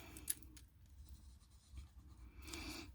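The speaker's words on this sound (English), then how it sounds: "So I'm drawing rectangles." Pencil drawing rectangles on paper while sketching greeting card fronts, a close, soft scratchy scribble in short strokes with quieter pauses between, no talking.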